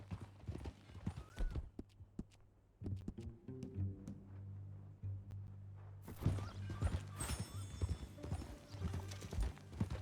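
Horse hooves clip-clop in a steady walking rhythm through a Red Dead Redemption 2 game scene, fairly close and continuous, with occasional whinnies and ambient game sounds joining in the second half.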